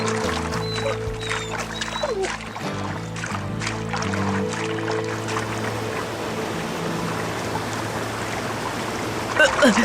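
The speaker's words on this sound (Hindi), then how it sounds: "बहाव बहुत ज्यादा है, हम रुक नहीं पाएंगे जोई।" A strong river current rushes and gurgles steadily throughout, loud and close, with musical tones playing over it for the first half.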